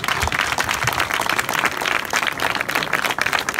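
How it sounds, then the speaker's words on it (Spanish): Sustained applause from an audience at a memorial plaque ceremony, dense steady clapping filling the whole stretch with no voices over it. "que le demos un aplauso"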